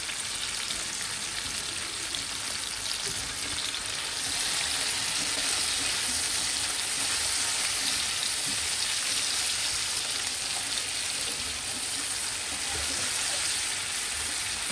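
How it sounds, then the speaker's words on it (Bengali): Hilsa fish heads frying in a pan of oil for a Bengali bitter gourd dish, giving a loud, dense, continuous sizzle that holds steady throughout. "মাথাগুলো একটু ভাজা ভাজা করে তারপর করলাটা দিয়ে দেবো"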